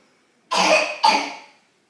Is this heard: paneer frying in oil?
no